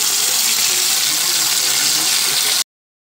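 Water poured into ground masala frying with cooked onion in a pan for egg curry, a steady continuous gushing splash lasting a couple of seconds before cutting off abruptly, fairly loud and close.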